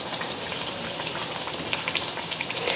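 Aloo puri frying in hot oil over a medium flame, a dense continuous bubbling sizzle heard close and alone, with a few sharper crackles toward the end.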